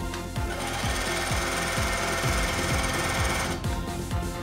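A semi-industrial overlock sewing machine runs at speed with a dense, buzzing whir and a rapid low mechanical thumping, then cuts out abruptly near the end, leaving quieter handling noise.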